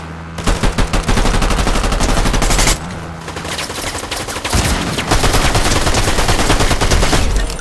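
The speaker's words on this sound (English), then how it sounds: "Shoot him, you can shoot him, bro." Rapid automatic gunfire from the video game Fortnite, loud and close, in long sustained bursts with a brief lull partway through, dominating everything else.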